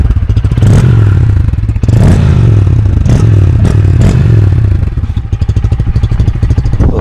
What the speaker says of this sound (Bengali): এক্সস্টের যে সাউন্ডটা